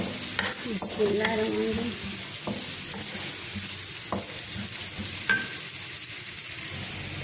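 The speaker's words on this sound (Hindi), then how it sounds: "तो हम इसको फ्राई करेंगे अभी" Black daal frying in a village kitchen pot, a steady loud sizzle with stirring scrapes throughout; a voice speaks a short phrase near the start.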